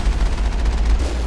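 Sustained gunfire in the video game Mass Effect, a dense, continuous rumbling roar of rapid shots that stays loud and steady throughout with no speech over it.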